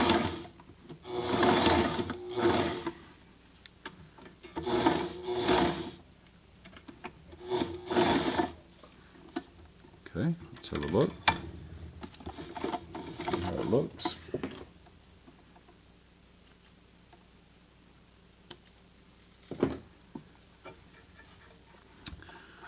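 A Sailrite Ultrafeed LSZ1 sewing machine stitches fabric in several bursts of rapid, close mechanical clatter separated by pauses, with a voice talking between runs.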